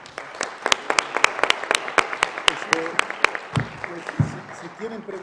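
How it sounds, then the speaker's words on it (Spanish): Applause from a forum audience as a speaker is sent off, sparse individual claps that ring out clearly and fairly close, with a voice talking briefly near the end. "les pediría un aplauso para despedirlo"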